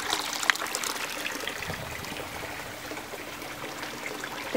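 Water trickling through a homemade pond biofilter, a steady close splashing and dribbling without pause or voices.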